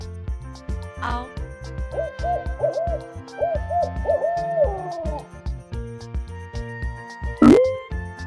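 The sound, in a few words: owl hooting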